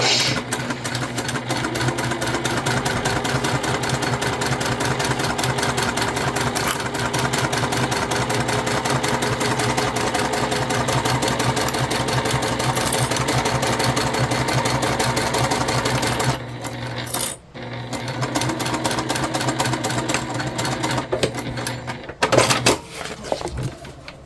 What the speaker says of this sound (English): I'm going to flip it and sew with the vinyl side up this time